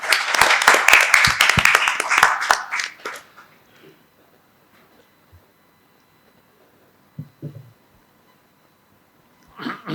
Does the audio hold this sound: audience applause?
yes